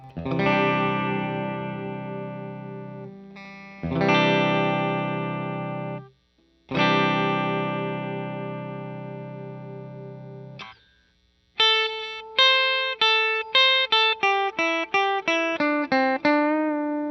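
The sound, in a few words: guitar through octave reverb pedal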